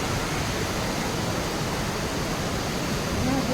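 A river in a flood- and landslide-hit area near Tinchhange, Nepal, rushing as a steady, loud broadband roar with no break, close by and without talk.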